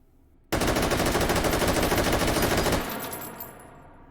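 Malyuk carbine fitted with a muzzle brake fires a rapid burst of loud, closely spaced gunshots in the H3VR virtual reality game, followed by a fading echo tail and a few faint mechanical clicks.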